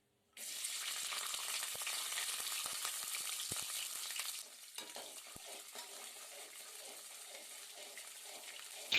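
Cloves, cinnamon, cardamom, chopped garlic, ginger and shallots hit hot oil with a sudden loud sizzle that holds steady, then eases to a softer crackling fry with scattered pops, close up and without voices.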